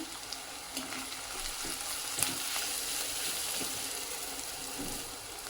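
Spices including turmeric frying in oil in a pan, a steady close crackling sizzle with faint occasional stirring clicks, no talking.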